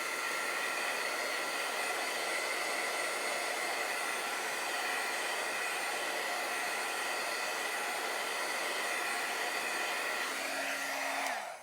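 A heat dryer blows with a loud, steady whooshing drone over paper coloured with alcohol markers, running continuously with a slight pitch shift before it cuts off at the end.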